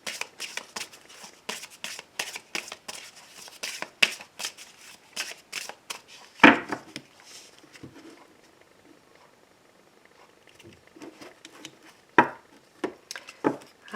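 A deck of cards is shuffled close up in quick bursts of riffling and flicking, with pauses, a few sharp taps as the deck is cut and squared, and soft rustling between, no voice over it.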